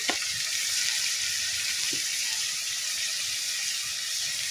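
Cumin, garlic and onion paste sizzles steadily in hot oil in a pan, cooking as the base for taki fish, with a continuous close hiss and a few soft clicks of stirring.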